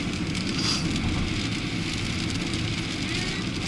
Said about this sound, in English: It's not supposed to be raining.